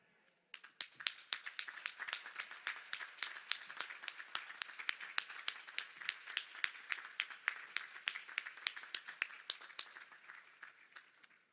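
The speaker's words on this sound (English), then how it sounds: "ask you to join me in applauding them for the fine education they've provided" A commencement audience applauds the faculty with dense, sustained clapping that starts abruptly and holds steady and loud for about eleven seconds, with no talking over it.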